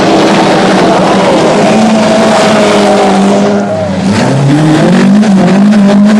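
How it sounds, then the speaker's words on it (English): An Audi Quattro rally car on the 1984 Monte Carlo Rally roars past close and loud, its engine note rising and dipping through gear changes with a brief tire squeal. "the surviving cars traverse the Chirini for the last time."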